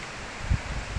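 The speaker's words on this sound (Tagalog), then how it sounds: "kung magdungog nyo mga kaprobinsya, gahaguros yun ang hangin diri mga kaprobinsya" Strong wind sweeping through a cornfield during a typhoon in the Philippine countryside, a steady broadband rushing with low gusty buffets, loud and continuous with no voices.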